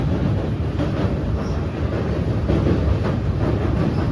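Steady, loud rumble and rattle of a train running on tracks, continuous clatter heard from inside a carriage with no voices.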